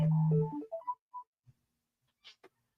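A phone goes off during a live broadcast with a short melodic ringtone: a held tone and then a quick run of rising notes, followed by a few faint clicks and a soft buzz.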